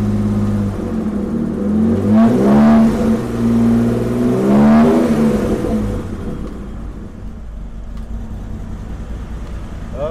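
A BMW E28/E30 engine, running after a starter switch contact repair, idles close and loud, revs up twice in quick swells, then settles back to a steady lower idle.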